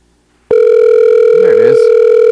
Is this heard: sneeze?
no